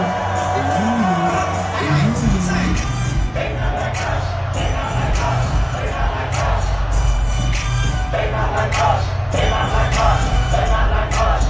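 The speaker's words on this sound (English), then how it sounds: "that's a sellout crowd right there. And you hear the intensity in there" A sellout crowd at a concert in Toronto roars continuously and loudly, with whoops, yells and nearby shouting voices rising out of the dense cheering.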